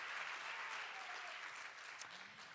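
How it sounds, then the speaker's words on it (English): Audience applause at a dance company performance, a dense even clapping from a crowd filling the whole stretch, close and fairly steady, with no talking over it. "let's give them one more round of applause, please, for their amazing contribution and sound to our work."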